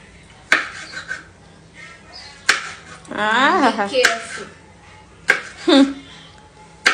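A knife cuts chilies on a kitchen board with a few sharp, isolated chops spaced a second or more apart, close by, while a voice speaks briefly between them.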